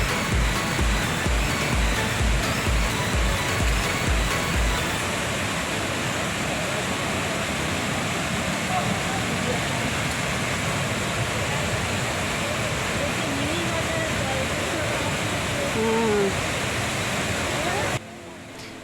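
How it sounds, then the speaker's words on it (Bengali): Harvalem waterfall in Goa roars during heavy rain, a dense, continuous rush of falling water and downpour filling the whole stretch at a steady, loud level. "আবার খুব জোরে বৃষ্টি শুরু হয়ে গেছে, কিন্তু ওয়াটারফলসটা এত সুন্দর দেখে মন ভরে গেল"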